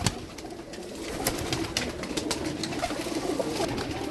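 Pigeons coo softly and continuously at close range, their low, rolling calls overlapping with light fluttering and rustling in the background.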